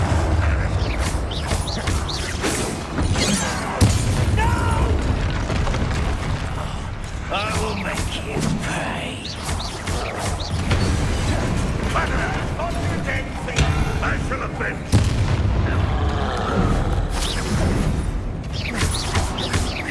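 Explosive Bombarda and other spell blasts boom and crash in Hogwarts Legacy combat, heavy bursts and rumbling impacts recurring amid game effects, under a man's near-continuous spoken commentary.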